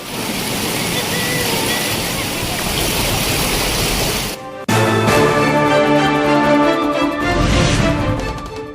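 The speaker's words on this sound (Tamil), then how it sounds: "பூண்டி ஏரியிலிருந்து வினாடிக்கு சுமார் 3000 கன அடி நீர் திறப்பு." Rushing water released from Poondi lake reservoir at about 3000 cubic feet per second, a loud, steady broadband roar like a waterfall, briefly dropping out near the middle before resuming just as strong.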